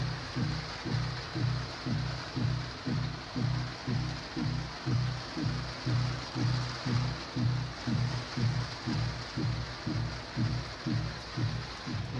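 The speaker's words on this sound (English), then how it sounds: "it's really loud right now because it's priming, but we have water" A water pump chugs loudly and steadily after priming, with a fast regular pulsing beat and a broad rush of flowing water throughout, close and continuous with no talking.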